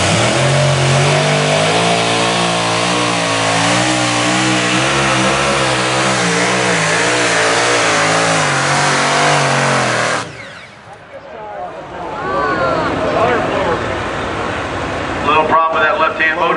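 Light unlimited modified tractor at an NTPA tractor pull in Fort Recovery, Ohio, with a problem in its left-hand motor: a loud, sustained engine roar that cuts out abruptly, then crowd and PA voices.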